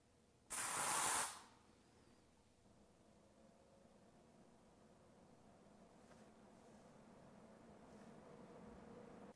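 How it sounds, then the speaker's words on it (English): A short, loud burst of aerosol spray released into the air beside an air purifier, roughly a second long, followed by a low steady hum. "I'm going to take this aerosol can, and I'm going to spray it into the air"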